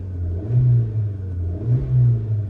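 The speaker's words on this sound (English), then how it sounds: "Proper revvy little 16-valve engine in here." A 2014 Suzuki Swift 1.2 SZ3 with a 16-valve engine revving twice from idle, each rise a smooth, buzzy swell that falls back, heard close and clear without talk.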